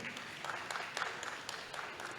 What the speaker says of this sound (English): Let us give ourselves a round of applause.